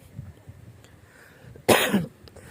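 A single loud, harsh cough bursts out after a stretch of quiet room noise, fairly close and brief, from a person coughing in humid air.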